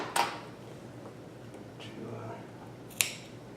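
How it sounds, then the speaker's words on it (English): Scissors snip curling knit fabric at a sewing machine, giving a few sharp, isolated cuts spread out over a quiet room with faint background noise. "So we need to make a little snip to"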